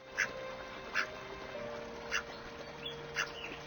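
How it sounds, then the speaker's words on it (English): A duck in the point-and-click adventure game What Makes You Tick: A Stitch In Time gives four or five separate quacks at a steady spacing, quiet and alone over a soft humming background. "There's a duck."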